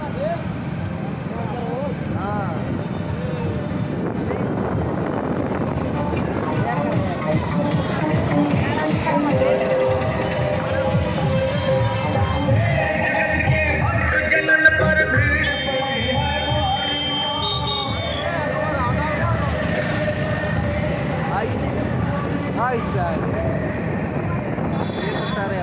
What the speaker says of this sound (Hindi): देख सकते हैं हम लोग बाइक से जा रहे हैं माता जी का स्थान पर।